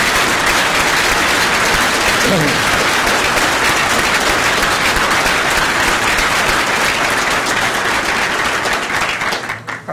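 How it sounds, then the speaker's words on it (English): A loud, dense round of applause from guests at a gathering held in a private home honoring benefactors, sustained evenly for the full stretch before tapering off at the very end. "if you would join me in a round of applause for our benefactors"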